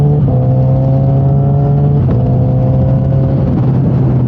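A 2008 Yamaha FZ1 motorcycle with a quick shifter pulls hard and loud, its steady engine drone broken by two quick, clipped gear changes that drop the pitch briefly before it climbs again.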